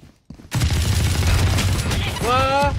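Rapid automatic fire from the Ares machine gun in Valorant, a sustained loud burst of shots running unbroken after a brief quiet start, with a rising whine near the end.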